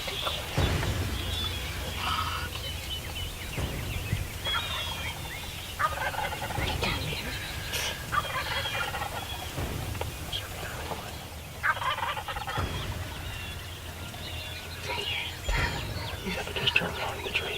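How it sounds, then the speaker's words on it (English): A wild turkey gobbler gobbles repeatedly in short bursts, moderately near, amid rustling, clicks and faint background noise outdoors. "That's a gobbler."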